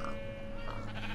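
A Minecraft sheep lets out a wavering, nasal bleat up close, sounding clearly over a steady background hum on a farm.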